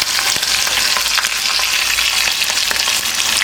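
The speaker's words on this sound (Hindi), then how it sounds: "यहाँ पे हमारे प्याज फ्राई हो गए" Hand-chopped onions frying in a pan with asafoetida and cumin, giving a loud, continuous close-up sizzle with faint crackles and occasional stirring scrapes, no voices.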